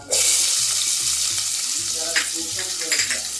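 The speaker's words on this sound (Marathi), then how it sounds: "आता तेल तर गरम झालं आहे ह्याच्यामध्ये ना मी आता टाकते हिंग त्याच्यानंतर टाकते लसूण आणि हा कांदा टाकते" Asafoetida, garlic and onion hit hot oil and fry with a loud, steady sizzle, punctuated by stirring and clinks of a utensil against the pan, with no talking.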